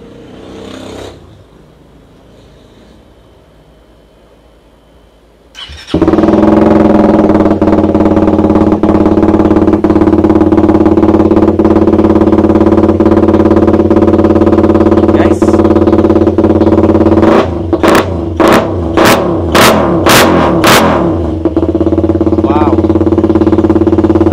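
Suzuki Raider FI motorcycle in break-in condition, engine idling loudly and close after a quiet start, with a run of sharp revving bursts partway through before settling back to a steady idle.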